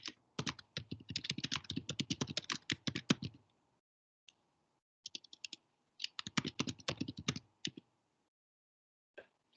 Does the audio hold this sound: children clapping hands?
no